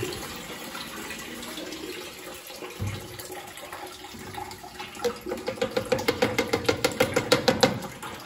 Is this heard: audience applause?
no